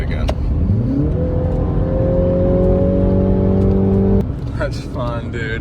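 A Mini Cooper engine revs up hard under acceleration, pitch climbing steadily for several seconds before cutting off abruptly, followed by brief road noise and faint voices.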